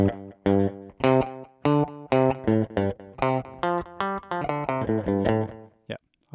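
Distorted electric guitar played through a Tech 21 Fly Rig 5 v2 pedal with a slight delay, a quick run of bright, close chords and single notes, then a short pause and one final plucked note.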